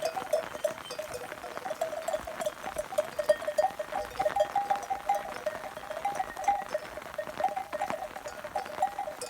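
Kangal lambs bleat repeatedly on the way to pasture, several voices overlapping in a steady chorus, with scattered hoof steps and rustling nearby.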